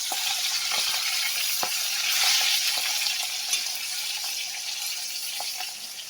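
Pangas fish, turned over partway through cooking, sizzles continuously in hot oil with a constant hiss broken by occasional spits and light clicks, heard close and alone.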